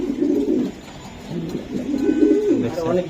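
Giribaj high-flyer pigeons coo in low, rolling phrases close by, repeating over a steady background murmur.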